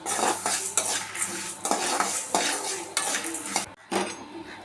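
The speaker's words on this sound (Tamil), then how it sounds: "மல்லி கூடவே ஒரு பன்னெண்டு வரமிளகா இதையும் சேர்த்து வறுத்துக்கலாம்" Coriander seeds and dried red chillies roast in a pan for rasam powder, with repeated close scraping strokes of a spatula against the metal over a faint sizzle, the strokes coming about once a second.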